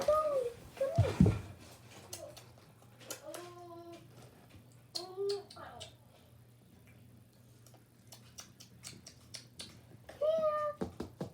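A pet cat meows several times at close range, drawn-out calls spaced across the stretch with quiet gaps between, over a faint steady ticking like a clock, and a brief bump of handling noise near the start.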